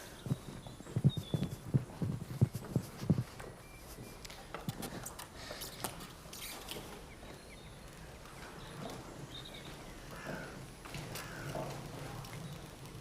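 Horse hooves clip-clopping on a city street, a run of sharp distinct hoof strikes at first, then fainter scattered steps amid quiet outdoor ambience.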